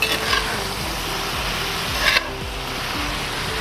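A spoon stirs diced chicken, carrots and potatoes in a pan for zuppa soup, with close rhythmic scraping strokes over a steady sizzle.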